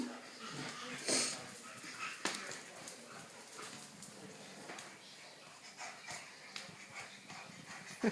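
Faint dog whimpers and snuffling sounds come and go, with a person talking quietly nearby.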